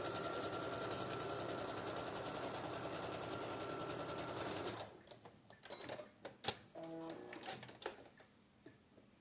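A sewing machine runs steadily for about five seconds while stitching a patchwork quilt block, then stops and gives way to softer fabric handling and a few light clicks.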